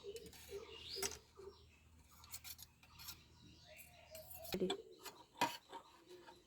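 Black salt being stirred into a raw mango drink in a small container, heard as light scraping and rubbing with scattered clinks of a spoon against the vessel, close and fairly quiet.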